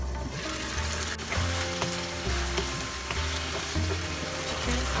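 Chicken with yogurt and masala sautéing over medium-high heat, a loud, continuous frying hiss with repeated bumps and scrapes of stirring throughout.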